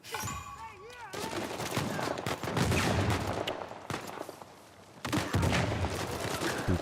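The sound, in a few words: gunfire in Uncharted 4 video game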